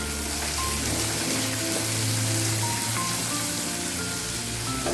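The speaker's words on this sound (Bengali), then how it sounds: "এই পর্যায়ে সরু সরু করে কাটা আলুগুলো দিয়ে দেওয়া হলো।" Thin-sliced potatoes frying in a pan with onion for a home-style Bengali dish, giving a steady, dense sizzle with faint crackle that holds evenly throughout, no talking.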